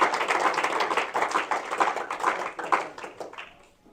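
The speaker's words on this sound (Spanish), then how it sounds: "Dele un aplauso al Señor" A church congregation claps in a steady, slightly uneven burst of applause, fairly close, tapering off toward the end.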